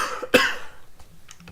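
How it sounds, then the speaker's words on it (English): A single sharp cough, close and fairly loud, followed by a few fainter throat sounds and small noises in a quiet room. "And just some extra coughing for the road"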